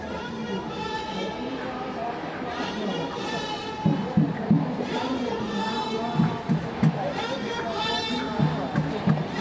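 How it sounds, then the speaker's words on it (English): A huge crowd gathers at an anti-ICE march in downtown Minneapolis, a dense steady roar of voices and chatter with scattered louder shouts and cheers rising from the mass throughout. "Huge crowd here."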